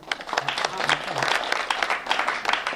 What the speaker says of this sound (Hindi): मैं एक बार ताली आप बजा दें